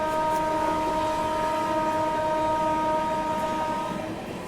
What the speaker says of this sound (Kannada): ಅದ್ರೊಳಗೆ ನಮ್ದು ಒಂದು ಲೌಡ್ ಹಾಂಕಿಂಗ್, ಮ್ಯಾಡ್ ಹಾಂಕಿಂಗ್ ಅಂತ ಹೇಳ್ಬೋದು ನಾವು